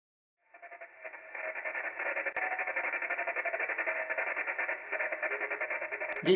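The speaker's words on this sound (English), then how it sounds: "This is the Sierra Victor 5 beacon." An amateur radio beacon signal comes through a Yaesu FT-817 transceiver, a steady pulsing tone with regular keyed beats, clear and moderately loud, over a quiet background.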